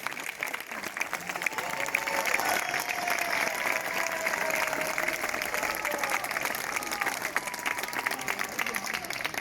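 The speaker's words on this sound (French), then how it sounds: "Vous pouvez les applaudir." An outdoor crowd at the crowning of the Vence queens claps steadily and at length, a sustained wash of applause with a voice audible faintly underneath.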